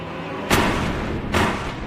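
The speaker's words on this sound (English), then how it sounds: "hearing what she believes to be gunshots" Two sharp booming bangs about a second apart, heard over a phone line, each one loud and muffled with a short tail.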